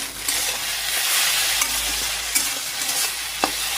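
Maggi noodles stirred and frying in a pan give a steady, close sizzle, with scattered scrapes and clinks from the stirring.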